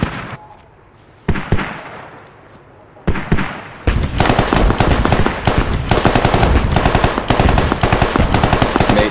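Squad military shooter gunfire: a few isolated booming shots with ringing decay, then a dense, loud stretch of rapid automatic fire that continues to the end, with a faint voice in the mix.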